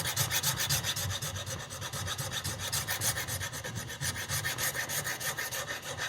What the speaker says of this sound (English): So the first thing I do is bevel the back.